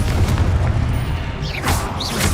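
A booming blast from the Confringo spell in Hogwarts Legacy, a loud, dense explosion with rumbling low end filling the moment, followed by brief crackling magical whooshes.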